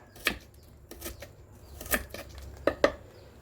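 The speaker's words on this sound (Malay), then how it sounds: "Tumbuk bawang." Onions pounded by hand for a Perak-style sambal, giving about six sharp, irregular thuds close by at a soft level, with short gaps between strikes and no talking.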